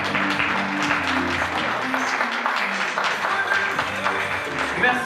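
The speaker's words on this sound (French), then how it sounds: "On peut les applaudir bien fort s'il vous plaît." Audience applause at a fashion show in Metz with men's, women's and children's looks, a steady dense wash of clapping lasting throughout, loud and close, with some voices mixed in.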